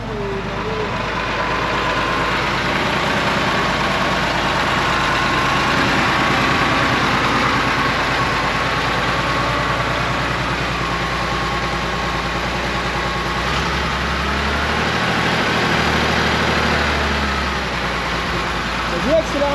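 A V8 car engine, started with the ignition key on the left, idling with a loud, steady low rumble throughout, with a person talking over it.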